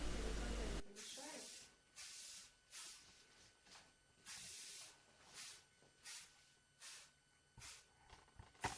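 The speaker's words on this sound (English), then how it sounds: "And finally, additional spraying." A hairspray can sprays a finished hairstyle in repeated short hissing bursts, about a dozen in a steady rhythm. A louder hiss comes at the start, and the spraying is close and fairly quiet.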